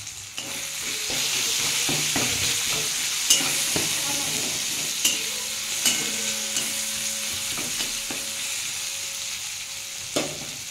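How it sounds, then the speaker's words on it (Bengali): Softened tomatoes with cumin powder and turmeric being stirred and sautéed in a pan for vegetarian spinach paneer, a steady close sizzle broken by scraping spoon knocks. "এর মধ্যে আমি জিরে গুঁড়ো 1 চামচ, পরিমাণ মতো হলুদ, সব দিয়ে বন্ধুরা একটু কষিয়ে নেবো এটাকে।"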